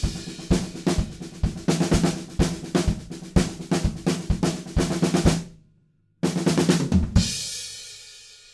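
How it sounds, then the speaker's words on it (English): A drum kit plays an accented snare pattern from a song, with punchy snare and kick hits in a driving groove. It stops dead for a beat, then returns with a loud crash that rings out. "The next part that the drums play is one of many cool snare drum accented patterns."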